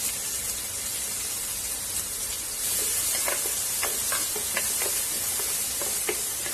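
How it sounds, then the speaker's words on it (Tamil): Steady loud sizzling of finely chopped onions frying in hot oil, with a few stirring scrapes partway through. "வெங்காயத்தை நல்லா வதக்கி விட்டுருங்க"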